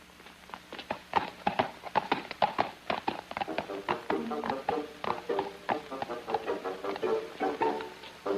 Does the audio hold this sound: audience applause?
no